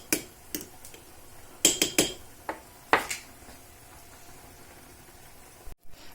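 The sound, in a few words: stirring chorba soup with a ladle in pot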